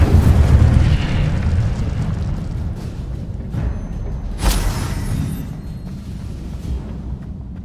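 The Incendio fire spell cast in the Hogwarts Legacy video game, a loud fiery burst that swells and then trails off into a crackling rumble, with a second sharp whoosh of flame midway, no voices.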